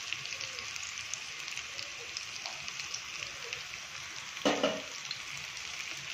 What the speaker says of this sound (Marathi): तर आपण 5-6 वड्या टाकणार आहोत आणि थोडा गॅस मोठा करून तळून घेणार आहोत.